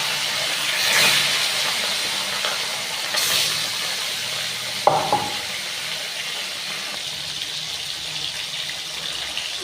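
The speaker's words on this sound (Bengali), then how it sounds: "আমি এবার মাছগুলো একে একে ভেজে নেব।" Pieces of rohu fish fry in hot mustard oil in a hot kadai, giving a steady, close crackling sizzle with a few brief clinks and soft bumps through it.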